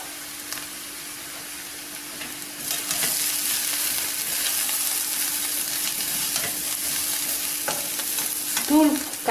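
Ground coriander, cumin, turmeric and chili powders with salt frying alongside orange peel in a pan on low heat. A steady close sizzle runs throughout, with occasional stirring scrapes and a brief clink near the end, with no talk.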